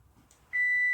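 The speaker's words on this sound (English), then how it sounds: "There's the timer." Kitchen timer in a home kitchen while toffee chocolate squares bake, giving a single sustained electronic beep that starts halfway through and holds steady to the end, clear and alone after faint room noise.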